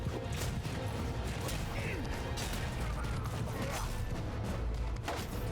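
Archers loosing volleys of arrows in a large battle in Mount & Blade II: Bannerlord, a dense, continuous clatter of whooshes, thuds and impacts layered under the roar of combat, loud and unbroken throughout.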